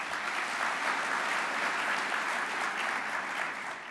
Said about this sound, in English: hold your applause just for a second